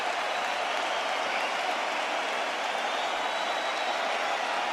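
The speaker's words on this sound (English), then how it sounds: "This crowd is on its feet in appreciation." A large arena crowd gives sustained applause and cheering after a fight-of-the-year-candidate bout late in the year, a dense, steady roar of clapping that fills the whole stretch evenly without pauses or voices standing out.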